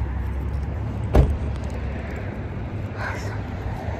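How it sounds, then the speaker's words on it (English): A car drives along with a steady low road hum inside the cabin, broken once by a sharp thump near the start and a faint passing sound later. "Driving hubby's car."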